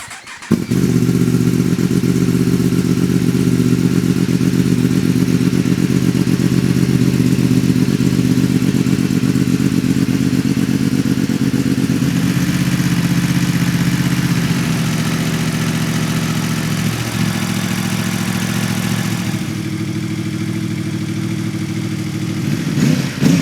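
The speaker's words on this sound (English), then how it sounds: "Just gonna start the bike." Tuned Yamaha R1M sportbike firing up and settling into a loud, steady close-range idle with a rough mechanical throb that eases slightly in pitch over time, no voices.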